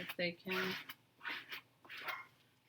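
Dogs outside across the street bark in several short bursts, distant and muffled, with a few higher yips between them.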